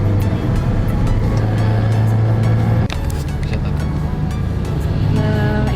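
Motorcycles and cars drive past on a mountain road near Pacet, giving a loud, steady engine drone and tyre hum close by, with one sharp knock midway.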